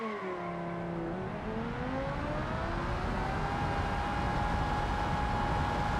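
A Scintilla car in the BeamNG driving game revs hard, its engine tone climbing steadily through the gears and holding a loud, continuous whine with no talking.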